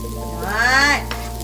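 Onion and garlic frying in a pan for a Filipino adobo, a close sizzling hiss that swells briefly and then settles, over a steady low hum in the kitchen.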